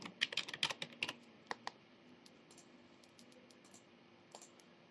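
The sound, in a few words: typing on a computer keyboard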